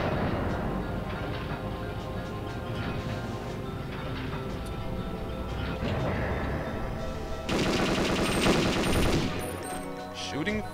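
The Dragon weapon firing in Perfect Dark, a steady stream of rapid automatic gunshots with a louder, denser burst near the end, over faint game sounds.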